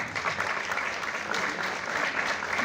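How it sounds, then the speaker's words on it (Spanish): A crowd at a public history event in Comitán claps for a speaker, producing steady, even applause that fills the short stretch without pause, fairly quiet overall. "Un aplauso fuerte para el ilustrísimo maestro Carlos Román."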